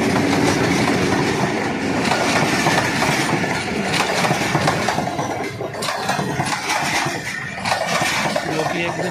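The Rehman Baba Express, a passenger train running non-stop toward Peshawar via Taxila, rumbles past with loud, continuous wheel and carriage noise and rhythmic clickety-clack over the rails.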